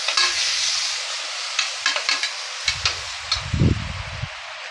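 Spice masala with turmeric sautés in a pan, a bright crackling sizzle broken by repeated scraping strokes of a spatula and a few low thuds as the mixture is turned, close and fairly loud.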